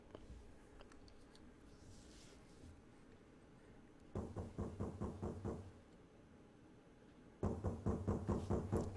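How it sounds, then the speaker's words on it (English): Rapid knocking from inside a coffin in the video game 999, two separate bursts of quick muffled raps, each series about a dozen knocks, over a faint background hum. "There's knocking coming from the coffin."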